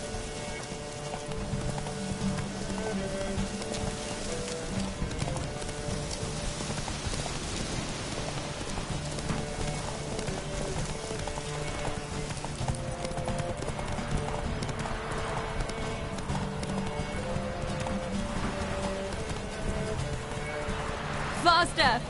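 Roach, a horse in The Witcher 3, gallops with continuous rhythmic clip-clop hoofbeats mixed with rain-like patter, heard under occasional game dialogue.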